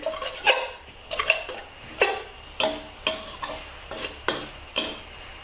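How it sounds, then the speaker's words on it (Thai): Soaked dried glass noodles stir-fried with minced pork and basil in a pan, rhythmic scraping and clanking of a spatula against metal about twice a second over a soft sizzle, close and alone. "ทีนี้เราก็ผัด ให้ทุกอย่างค่ะ เข้ากัน"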